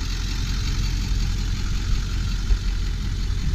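A 1999 Ford F250 Super Duty with a 7.3L Power Stroke turbo diesel runs at a steady idle, a low, constant rumble close by with no talk.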